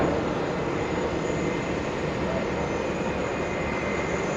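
Boeing 747 taxiing at JFK airport, a faint, distant, continuous jet engine hum and whine that stays level throughout, with people talking faintly.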